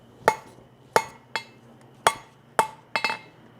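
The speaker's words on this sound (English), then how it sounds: "bring this to the near side of the anvil, and just give it a couple blows here" Six sharp ringing hammer blows strike hot steel tong stock, tapered on the near side of the anvil, spaced unevenly with a quick pair near the end, close and clear with a faint steady hum underneath.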